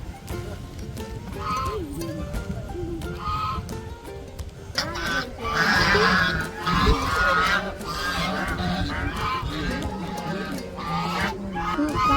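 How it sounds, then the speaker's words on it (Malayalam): Loud honking and quacking from several loose domestic ducks in bursts, with voices talking in the background and some rustling nearby. "നമ്മുടെ താറാവുകളൊക്കെ ഇങ്ങനെ അഴിച്ചു വിട്ടേക്കാണ് അവരെല്ലാം ഇങ്ങനെ നടപ്പുണ്ട്"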